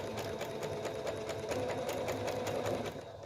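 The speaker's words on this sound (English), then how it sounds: "From the inside corner of that, he's going to do a straight stitch across to the opposite corner." A sewing machine runs a straight stitch across quilt binding with a normal presser foot, a steady fast needle chatter that holds even throughout before easing slightly at the end, with no talking.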